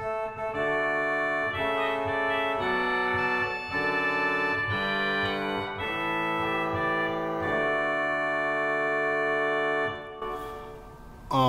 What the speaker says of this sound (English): The reed on the choir is called the chalumet,